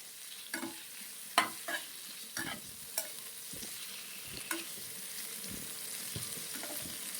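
Paneer masala turned and stirred in a pan, a soft continuous sizzle broken by a spoon scraping and tapping every half second or so, close and fairly quiet.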